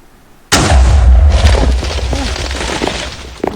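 Fireball attack in a Minecraft-style video game hits with a sudden loud blast, then a rumbling, crackling decay that fades over a few seconds and ends in a small burst.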